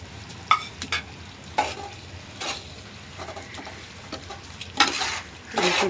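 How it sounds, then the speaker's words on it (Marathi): Mutton biryani being stirred in a pan after biryani masala goes in, with soft scraping strokes and light sizzling that come in several separate bursts against a quiet background. "पूर्ण हलवून घ्यायचं आहे."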